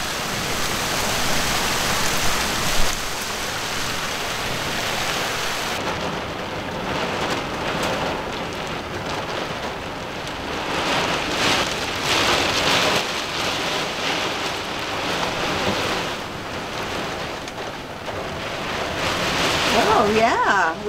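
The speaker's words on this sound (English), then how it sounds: "driving rain for sure. It's coming at us." Heavy driving rain beating on a skoolie bus, a dense steady hiss and patter that swells and surges in gusts, close and loud throughout.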